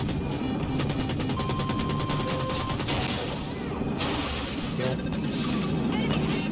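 Dense, continuous bursts of rapid gunfire crackle throughout, with booming impacts layered in, sounding like a hectic firefight in the video game Battlefield 2042.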